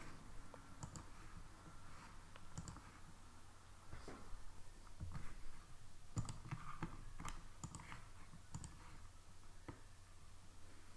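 Sharp computer mouse clicks land at irregular intervals, often in quick pairs, while an online recruitment form is filled in on a computer, set over a quiet low hum and soft room noise.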